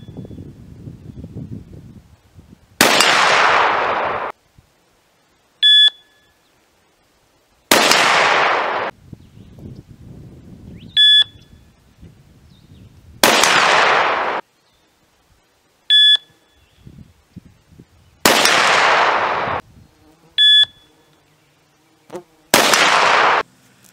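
A rifle firing 7.62x39 brass-cased rounds through a scope, five loud sharp shots spaced several seconds apart, each preceded by a short electronic shot-timer beep, with faint rustling between.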